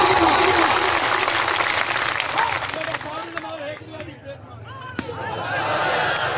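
Loud cheering applause at a club event, dense clapping and crowd noise running throughout, with voices shouting over it.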